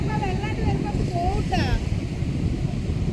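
A steady sea breeze rushes and buffets the microphone at Kappad beach, a constant low roar with faint tonal sounds drifting over it briefly.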